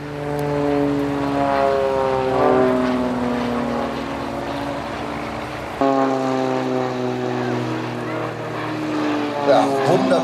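Extra 330 aerobatic propeller planes fly in formation at an air show, their engines droning steadily with shifting pitch throughout, loud and sustained, with a commentator speaking over them.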